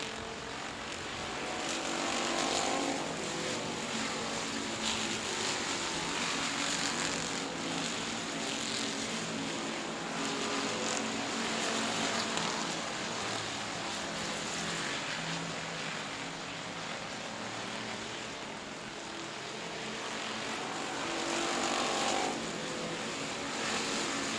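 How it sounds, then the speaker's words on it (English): Race cars roar around the South Texas Speedway oval, a dense, continuous engine drone from the pack at moderate distance that swells and eases slightly as they pass, with no talking. "And the 30 car, Matthew Villarreal leading the racing"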